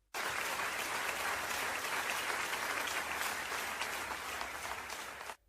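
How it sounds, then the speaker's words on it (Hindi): Audience applause at a road safety event, a steady dense wash of clapping that starts abruptly and holds for about five seconds before cutting off, fairly close and unaccompanied by talk. "आप सभी बधाई और तालियों के हकदार हैं"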